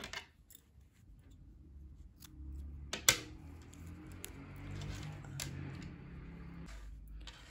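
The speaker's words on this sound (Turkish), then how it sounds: "İpliği kesiyorum." Scissors snip through crochet yarn in a quiet room, with a single sharp cut standing out among soft handling rustles.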